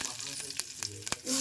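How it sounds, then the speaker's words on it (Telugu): Mustard seeds, cumin and curry leaves sizzle in hot oil, with a close, steady frying hiss broken by quick sharp crackles and pops. "ఇలా నూనె వేడెక్కినాక జీలకర్ర, ఆవాలు, కరివేపాకు,"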